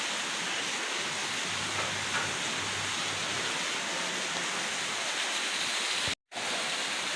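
Steady early morning rain pouring outside a home, a constant broadband hiss like a downpour, even and enveloping, briefly cut off near the end, with no talking.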